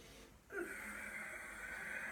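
A slow, steady breath drawn in during a qigong exercise, a soft airy wheeze that starts after a brief pause and holds evenly for about a second and a half, close and quiet.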